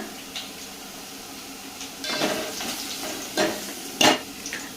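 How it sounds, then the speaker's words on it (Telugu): Onions frying in a pan, stirred with a spatula as turmeric goes in, during preparation of a prawn and broad bean curry; a steady close sizzle broken by several scraping stirs. "ఆనియన్స్ అయితే మంచిగా ఫ్రై అయిపోయాయి. ఇప్పుడు 1 టీ స్పూన్ అలా పసుపు అయితే వేస్తున్నా."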